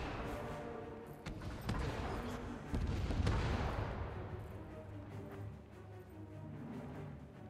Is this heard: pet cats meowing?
no